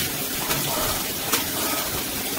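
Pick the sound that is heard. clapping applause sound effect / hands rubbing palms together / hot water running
hot water running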